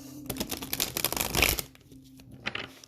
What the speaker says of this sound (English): These cards are incredibly difficult also to shuffle.